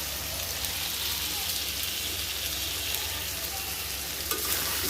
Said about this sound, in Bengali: এখানে হচ্ছে কলিজাটা একদম ভাজা ভাজা হয়ে যাচ্ছে